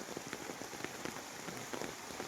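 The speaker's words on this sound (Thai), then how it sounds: "ฝนตกดีแท้เนาะ" Heavy rain pours down at a Buddhist temple, a dense steady hiss of drops striking surfaces, close and continuous without voices.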